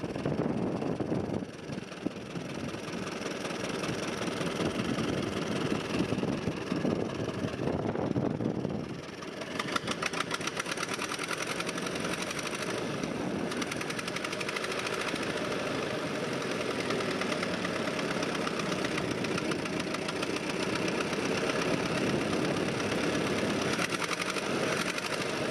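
A 1926 Ford Model T Touring engine, long abandoned, with no compression and a glued-together carburetor, runs slowly in a steady, loud idle with an uneven knocking beat that holds throughout.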